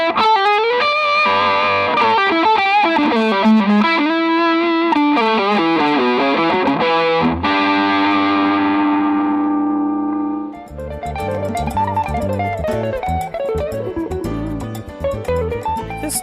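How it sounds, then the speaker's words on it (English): A Kiesel/Carvin Frank Gambale FG1 electric guitar plays loudly with distortion and effects, first sustaining warm, singing lead notes, then shifting to a busier, choppier passage, with no voices. "This guitar for blues and fusion and rock, it's singing tone, very, very warm tones."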